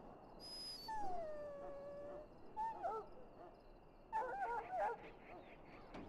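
Dog in a pen from Dragon Age: Origins, letting out a drawn-out falling howl followed by high wavering whimpers and whines, moderately close and fairly quiet.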